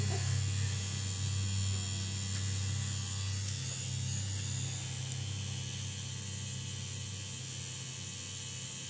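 A tattoo machine buzzes steadily throughout with a constant electric hum and whir, moderately loud and unbroken, with no talking.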